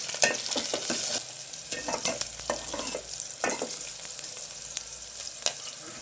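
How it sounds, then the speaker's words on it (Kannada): Garlic frying in hot oil until golden for a pepper rasam, close crackling sizzle broken by several sharp scraping stirs of a spoon against the pan, no talking. "ಬೆಳ್ಳುಳ್ಳಿ ಸೇರಿಸ್ಕೊತಾ ಇದ್ದೀನಿ, ಇದೆಲ್ಲ ಗೋಲ್ಡನ್ ಫ್ರೈ ಆಗಬೇಕು."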